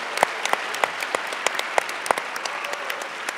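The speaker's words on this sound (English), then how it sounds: "Yeah, give them a round of applause." Light applause from a modest conference audience, a scattering of distinct claps spread evenly with no crowd roar and no talking over it.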